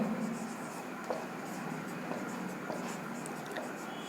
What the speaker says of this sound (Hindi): ये एक आसान सा क्वेश्चन लिखता हूं मैं